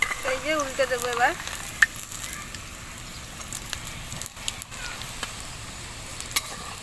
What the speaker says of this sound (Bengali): এই যে ভাজা হয়ে গিয়েছে পকোড়াটা